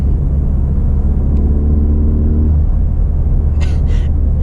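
Ford Fiesta ST driven on night backroads, its engine giving a loud, steady low rumble from inside the cabin, with a brief rising whine midway and a couple of short hissy bursts near the end.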